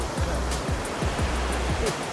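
A mountain stream or river rushes in a steady broadband wash, moderately loud and continuous, while a few soft low thumps recur under it.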